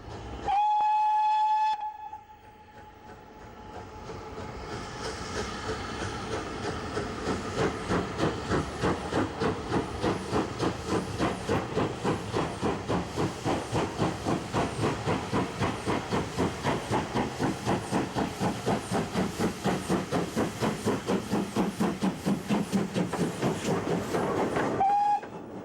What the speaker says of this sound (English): As City of Truro leaves Bewdley, her distinctive whistle echoes across the valley.